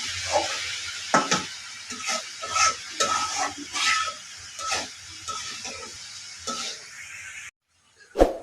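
Cabbage, flat beans and potato fry in oil in a pan, giving a steady close sizzle broken by repeated stirring scrapes and clinks of the spatula, with a brief pause near the end.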